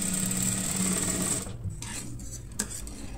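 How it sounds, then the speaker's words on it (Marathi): A sewing machine stitches a blouse sleeve in a steady whirring run that stops abruptly partway through, followed by quieter handling clicks and a small knock. "थोडंसं आपल्याला या ठिकाणी पाठीमागच्या साईडला बोट ठेवून थोडीशी टीप मारून घ्यायची सगळ्यात आधी"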